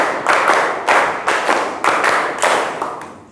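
A group doing a clapping exercise claps a counted pattern twice over, giving a run of about six crisp, loud ensemble claps at a steady, fairly quick rhythm, close up with no voices.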